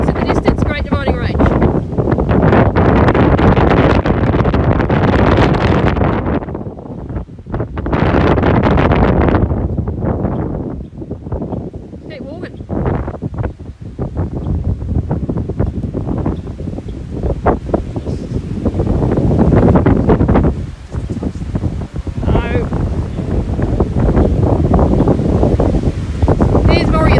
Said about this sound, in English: Hoping you can hear something above the wind.